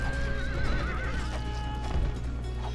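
In a Rome Total War battle, a cavalry horse gives a loud, wavering neigh while hooves clatter beneath it, all over dense, continuous battlefield din.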